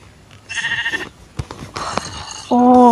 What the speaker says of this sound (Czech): Tady máme ještě ovečku.